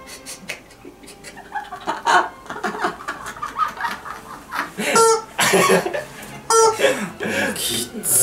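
A squeezed rubber screaming chicken toy gives short squawking honks amid close-up laughter and chatter from several people in Japanese.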